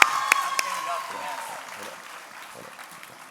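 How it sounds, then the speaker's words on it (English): A school pitch-night audience applauds a student team, scattered claps over a ringing tone and voices at first, fading into a low murmur. "Let's give them a round of applause, y'all."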